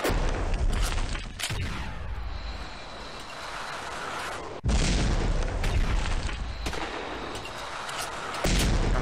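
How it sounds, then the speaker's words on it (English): In the browser shooter game Masked Shooters, a bazooka fires in heavy booming blasts, with sharp explosive hits at the start, middle and end over a constant rumble of in-game gunfire. "he's firing a bazooka at me"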